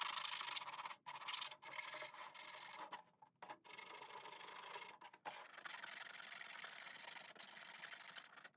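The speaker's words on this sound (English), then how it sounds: "To sand the body, I'm going to be using 120 grit sandpaper, just to roughen it up a little bit" Coarse 120 grit sandpaper roughens a 3D-printed plastic RC car body. The raspy scrubbing strokes are close and continuous, with a few brief pauses between passes.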